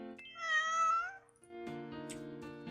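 A cat meows twice in the Japanese educational game Wagotabi. The first meow is a clear, drawn-out cry and the second is shorter, both heard against a soft tonal game music bed.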